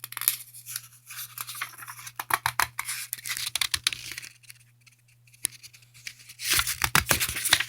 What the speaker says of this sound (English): I'm having trouble turning the page.